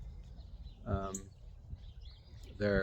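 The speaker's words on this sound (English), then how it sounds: "It's that little bird." A small bird chirps twice, short bright calls about two seconds apart, over a low steady rumble of outdoor background noise in Cecil County, Maryland.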